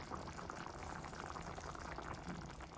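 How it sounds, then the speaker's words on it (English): A pot of liquid on a stovetop burner coming up to a boil, giving a steady, close, low-level bubbling and hissing that holds evenly throughout with no talk. "now that it's getting to a boil, I'm going to lower the fire"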